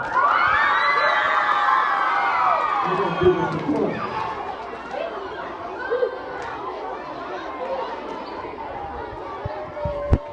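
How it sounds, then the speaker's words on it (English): A group of children cheering and shouting together at a school welcome event, a continuous lively crowd babble with excited voices rising and falling throughout, fairly loud and close. "this group to my left will be cheering for Courtney"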